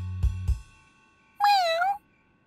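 A cartoon cat gives a single drawn-out, wavering meow, sounding clearly after two short low thumps, with near silence around it.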